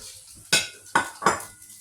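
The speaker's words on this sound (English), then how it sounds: "So keep stir frying this for about 1 to 2 minutes." Chow mein noodles with bean sprouts being stir-fried in a wok: three sharp, loud scraping clanks of a utensil against the metal pan over a faint background, with no talking.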